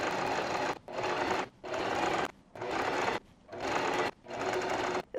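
Sewing machine running a long basting stitch along a skirt for gathering ruffles, four steady bursts of rapid mechanical whirring separated by brief pauses, close and alone.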